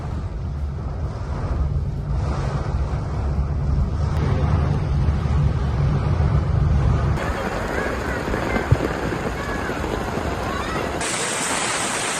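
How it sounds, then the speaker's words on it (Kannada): Loud, continuous roar of Arabian Sea surf crashing on the Mumbai shore during heavy monsoon rain, with rushing, windy noise throughout. "ಅರಬ್ಬಿ ಸಮುದ್ರ ರಾಕ್ಷಸ ಸ್ವರೂಪಿ ಅಲೆಗಳು ದಡಕ್ಕಪ್ಪಳಿಸುತ್ತಿವೆ"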